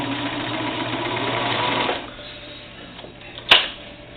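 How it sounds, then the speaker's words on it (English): A serger overlock machine sews elastic onto doll bloomers, a rapid close mechanical whirring chatter that runs for about two seconds then stops, followed by a quiet pause and a sharp click. "And that's how I do it on my serger."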